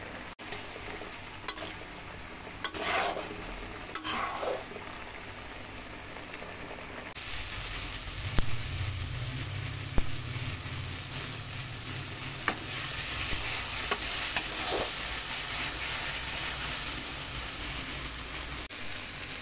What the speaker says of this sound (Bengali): মশলা ভালো করে ভাজা ভাজা করে নিয়েছি